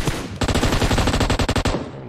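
Sustained automatic gunfire from a PUBG Mobile match, loud and rapid bursts of shots filling the clip, with a brief lead-in before the firing starts and short gaps between bursts near the end.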